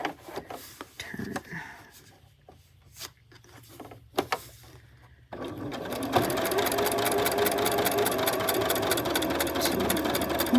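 A sewing machine stitches fabric for a small cozy, starting after a few seconds of quiet handling noises and then running steadily and close, a fast even mechanical chatter that holds to the end.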